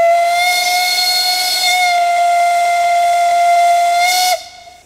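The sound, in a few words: steam whistle of narrow-gauge Mocănița train at departure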